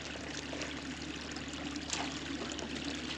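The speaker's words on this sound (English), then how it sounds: "I love the sound of it, the sound of the water flowing." A mountain creek in pine country runs steadily, a soft continuous rush and trickle of flowing water heard faintly and evenly throughout.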